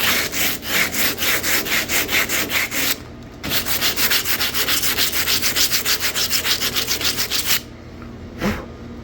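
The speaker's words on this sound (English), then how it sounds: "Now it's got a little sanding pad here." Brisk back-and-forth strokes of a sanding pad on a concrete edge scrape rhythmically up close, pausing briefly twice before resuming, then stopping with a last faint scuff.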